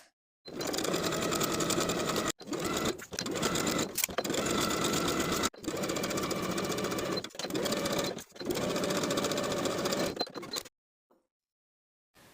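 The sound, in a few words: sewing machine stitching around fabric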